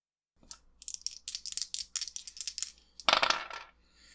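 Dice rolled for a tabletop role-playing game, a quick clattering run of small hard bounces and clicks that settles, followed by a second louder rattle of dice tumbling and coming to rest.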